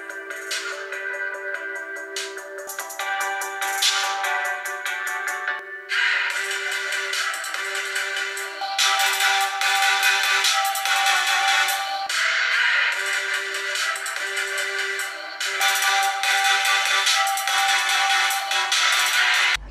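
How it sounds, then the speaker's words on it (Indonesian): Music plays through the stereo speakers of an OPPO A57 phone and the mono speaker of an OPPO A55, thin and bass-free, running continuously for about twenty seconds with a brief dip and change in level partway through. "sejauh apa sih bedanya speaker stereo di A57 dengan mono speaker di A55?"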